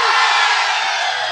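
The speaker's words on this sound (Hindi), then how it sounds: "जयकारा लगा रहे हैं" A large crowd at a stage show roars a devotional victory chant, a loud, sustained mass of shouting voices lasting about a second and a half.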